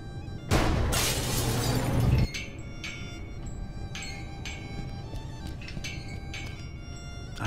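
Glass above a lab door shatters in the Gibbous: A Cthulhu Adventure video game, a loud, dense crash lasting nearly two seconds, followed by scattered faint clinks of falling shards over a low background hum.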